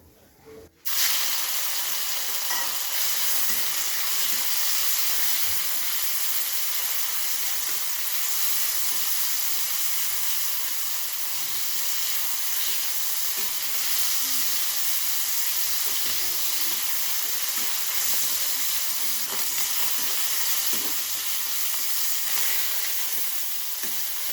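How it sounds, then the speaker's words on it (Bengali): Loud, continuous hiss and crackle of fish frying in hot mustard oil, starting abruptly and staying steady throughout, close up with no talking. "এখন আমি মাছটা ভেজে নেব।"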